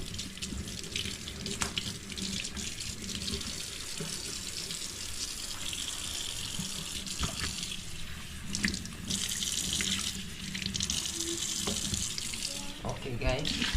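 A kitchen tap runs steadily into a sink while stainless steel utensils are washed, a continuous close splashing rush with occasional clinks over the full length.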